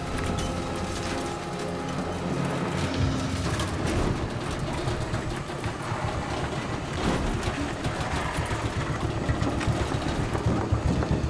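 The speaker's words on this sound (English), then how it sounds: "The tractor is eased onto the road." A tractor grinds and rattles as it is eased onto a road on a steep incline during a heavy recovery, with a continuous loud mechanical clatter and engine drone and a few clanks along the way.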